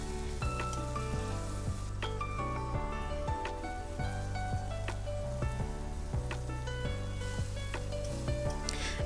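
Spices, turmeric and salt are stirred in hot oil in a wok while making chitol fish kofta. A steady sizzle runs throughout, with rhythmic scraping taps of the spoon against the pan and no talking.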